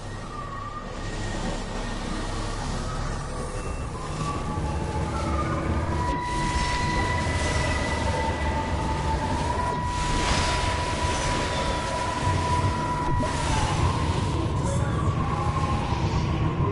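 Train pulling into a station in the video game Everybody's Gone to the Rapture, a steady rumbling rolling noise with sustained tonal squeals and hums throughout, loud and continuous with no talking.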